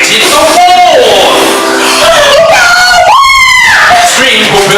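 A witch screams in alarm as fire ignites a wall during a Christmas story reading, loud, drawn-out, rising and falling shrieks filling the whole stretch.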